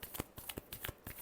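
Tarot cards riffled by hand in quick close bursts, a brief soft run of papery flutters, quiet and alone.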